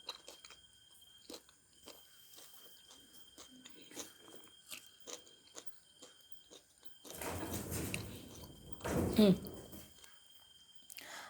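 Crunchy vegetables from kupat tahu with soy sauce are bitten and chewed close up in a run of crisp crunches, with a louder burst of chewing near the end and a soft voice in the background.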